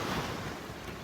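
Ocean waves wash in close to the shore, a steady broadband rush of surf mixed with wind buffeting the microphone, loud and continuous with no talking.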